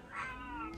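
One cat meows close by, a short drawn-out cry that holds steady for under a second and is heard alone.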